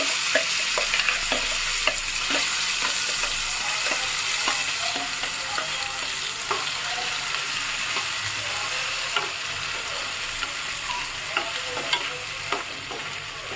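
Tomato and coriander chutney being stirred into a hot tempering of dried red chillies and curry leaves: a continuous crackling sizzle with scattered sharp spoon clicks and scrapes throughout, close and fairly loud, with no voices.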